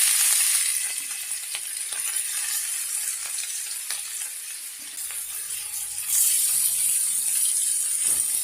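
Beef balls dropped into hot oil sizzle with a steady hissing fry and faint scraping and stirring, getting louder again toward the end.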